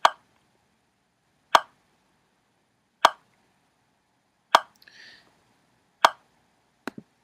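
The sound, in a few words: metronome ticking at 40 beats per minute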